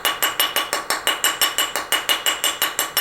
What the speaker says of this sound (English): And hammer on the part that's down here.